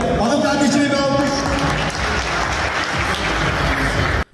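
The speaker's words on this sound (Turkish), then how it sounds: "Hanım kardeşimi bir alkış." An audience at a benefit evening breaks into dense, sustained applause, loud and continuous with voices mixed in, ending abruptly.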